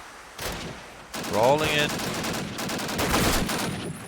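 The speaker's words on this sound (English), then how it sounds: "He's gonna try to shoot through the smoke." Gunfire bursts in a Call of Duty: United Offensive match as a player shoots through smoke near the bomb, several cracks and volleys under a caster's excited commentary.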